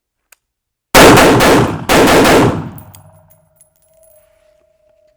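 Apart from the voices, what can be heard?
rifle shots hitting KTAK target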